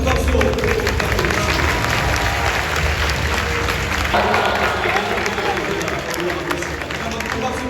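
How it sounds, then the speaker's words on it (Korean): A large stadium crowd applauds steadily at a baseball jersey-number retirement ceremony, broad sustained clapping and cheering filling the space, with an announcer's voice carrying over the din. "다시 한번 큰 박수 부탁드립니다."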